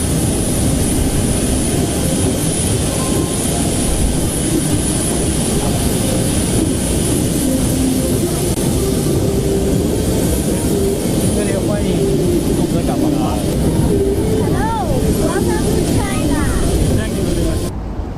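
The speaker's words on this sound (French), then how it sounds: "l'avion du président de la transition a atterri à l'aéroport international de Beijing" A presidential aircraft lands at Beijing international airport, its engine roar steady and loud for the whole stretch, with a crowd's murmur and voices mixed in underneath.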